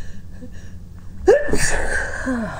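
A quiet breathy buildup leads into one sharp, loud sneeze, followed by a short trailing exhale.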